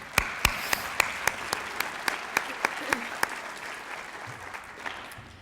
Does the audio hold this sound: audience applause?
yes